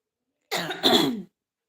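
Two quick, harsh coughs close by, the second slightly louder, with silence around them.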